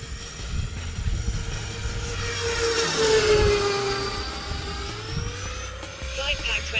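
Discontinued RC model jet flying in wind, a steady turbine whine with a Doppler-like sweep as it passes closer around the middle, fairly faint and distant, with talk over it.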